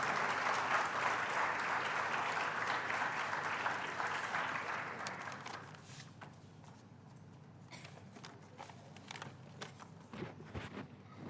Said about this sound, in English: Please join me in extending a warm round of applause for Professor Sangeeta Sani